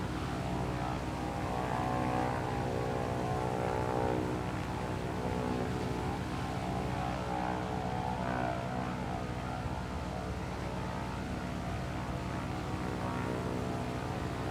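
Engine of a PZL-104 Wilga, a high-wing STOL utility monoplane with a propeller, droning steadily and loudly throughout with a constant harmonic hum and no voices.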